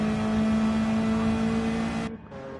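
Race cars in a racing video game accelerate down the main straight with a loud, steady high-pitched engine whine that cuts off abruptly near the end, no voices present.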